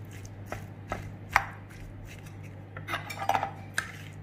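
Brined mango pieces are mixed with masala and hot oil for pickle, making scattered spoon knocks and scraping clatters against a metal vessel, with a denser cluster near the end. No one speaks.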